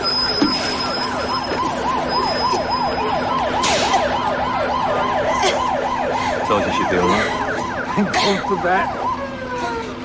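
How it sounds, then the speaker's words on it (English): An ambulance siren wails in a steady rising-and-falling cycle, fairly close and continuous, at the scene of a fire, with people talking over it and other noises breaking in near the end. "Okay, that's the ambulance."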